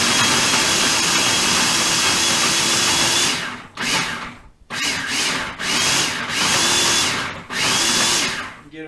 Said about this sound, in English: so we've got our glands and glycerin into the food processor, and we're going to do a little pulsing here